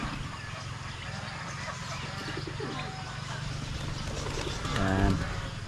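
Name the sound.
pigeons cooing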